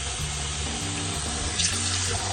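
Tap water running steadily into a sink while potatoes are rinsed for homemade potato starch, a close, even rushing stream with faint clinks.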